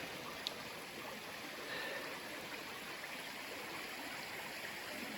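A stream at a water crossing on the Pinhoti Trail, a steady, soft rushing of flowing water heard alone and continuous, with no voices.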